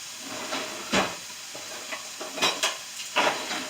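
Shrimp sizzling in a hot pan as tongs flip them, with a steady frying hiss broken by several short scraping and clinking bursts of metal against the pan at irregular moments.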